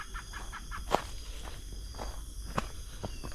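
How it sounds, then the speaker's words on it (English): Forest jungle ambience at dusk in Monteverde, Costa Rica: faint steady insect hum and distant bird calls, with soft footsteps on a path in the foreground and no talking. "Love the sound of this like foresty jungle vibes."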